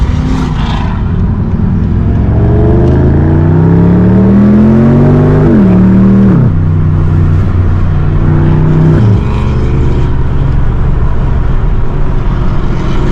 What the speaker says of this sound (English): I hope the wind noise isn't too terrible, but damn, that Mustang's loud as fuck.